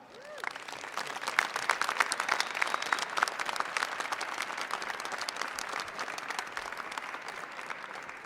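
An audience at a community college lobby day event bursts into sustained applause with scattered cheers and whoops, dense clapping holding steady for several seconds.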